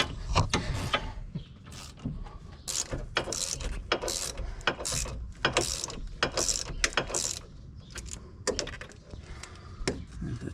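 Hand tools clicking and ratcheting on a 2006 Chevy Cobalt SS while a replacement wheel bearing is drawn in and its bolts tightened, with repeated short bursts of ratchet clicks and metallic clatter close by, no talking.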